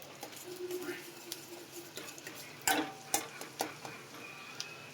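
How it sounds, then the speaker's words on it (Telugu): Chopped chillies fry in a pan and get stirred with a ladle, making a faint sizzle with scattered ticks and several sharper scrapes and clinks in the second half. "ఇదిగో మిరపకాయ వేసినాం, తిప్పుతున్నాం గంటె."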